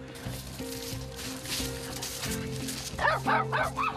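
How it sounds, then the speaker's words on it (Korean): A small dog, a poodle or Maltese, barks in a quick series of sharp yips near the end, preceded by steady background noise and low whimpering. "심지어 사람만 근처에 오면 짖으며 달려드는 장군이 때문에 딸 보호자가 걷기도 쉽지 않았는데요"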